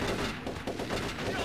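Gunfire in the video game Turok: Shadow of Oblivion, a loud dense stretch of rapid shots that runs without a break through the whole short moment.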